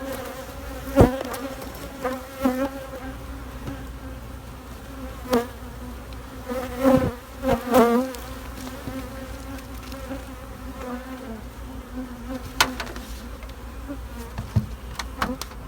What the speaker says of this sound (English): If I can wave my hand over the hive like this and not have a load of bees going after it